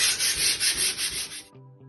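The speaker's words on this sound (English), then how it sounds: "I'm using 120 sandpaper for sanding this filler" Close, rhythmic rasping of 120-grit sandpaper rubbed back and forth over wall filler, about seven strokes, then it stops abruptly.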